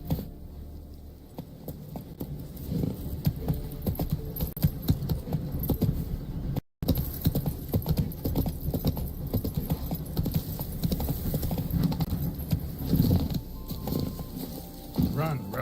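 Horse hooves clip-clop steadily through most of the stretch while riding in The Witcher 3, with a jingle of tack and voices talking over the continuous hoofbeats, broken by one brief dropout.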